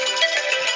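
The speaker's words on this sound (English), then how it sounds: "I think that's my phone telling me it's time to get on with my chores for today." Phone ringtone going off during a tattoo design drawing session, a short bright melodic chime heard alone with no talking.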